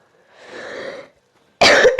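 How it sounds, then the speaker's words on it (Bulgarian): A person who is ill coughs, a breathy exhale followed after a pause by a sharp, loud cough burst close to the microphone. "Извинявам се за кашлянето"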